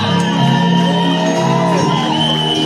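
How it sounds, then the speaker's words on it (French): A congregation in church shouts, whoops and cheers for joy, a loud sustained crowd roar with layered voices and no clear speech. "Est-ce qu'on peut pousser des cris de joie en ce moment?"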